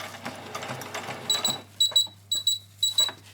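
A home sewing machine stitching fairy wings, running in short rhythmic bursts, its motor whirring and needle ticking close up, with several quick stitch-and-stop repetitions toward the end and no speech.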